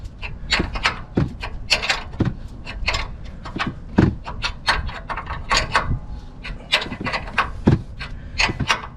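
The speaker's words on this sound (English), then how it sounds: "just run your wrench up against the axle there" A wrench works a lock nut on the axle of a Ram 2500 pickup during leveling kit installation, giving a steady series of sharp, rasping clicks and scrapes in an uneven rhythm, close and fairly loud.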